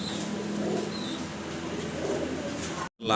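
Fancy pigeons, including Mundian birds kept for sale, coo softly against a steady background hum, ending in a brief dropout.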